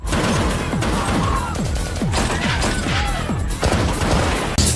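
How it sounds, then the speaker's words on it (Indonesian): Gunfire in an action film shootout between police and mafia men, loud repeated shots and crashes in dense bursts across the whole stretch, with no voices over the scene. "Inspektur Perma dan polisi pun membuka serangannya yang membuat terjadi pergejolakan senjata."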